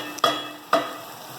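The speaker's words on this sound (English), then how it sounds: "Sugar has to caramelize as well." Sugar caramelizes in a hot pan for an octopus sauce, sizzling steadily while a utensil stirs it in two quick scraping strokes, close up and with no talk.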